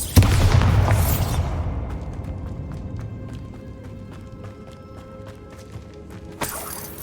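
A Bombarda spell explodes in Hogwarts Legacy, a sharp booming burst at the start that trails off into a long ringing decay full of crackling debris, with a second smaller pop near the end.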